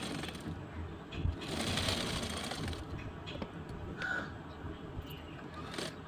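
A sewing machine running over a lined blouse, a faint steady mechanical whir with a crow cawing briefly in the background.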